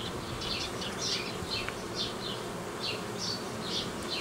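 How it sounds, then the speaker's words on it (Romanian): Honeybees buzz densely at a beehive, a continuous close drone with individual bees whirring past in brief swells over the steady hum. "are o cantitate mare de albine"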